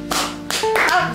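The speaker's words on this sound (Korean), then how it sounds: "박수!" People clap their hands at a family Christmas Eve party in Korea, a brief, close burst of claps mixed with voices.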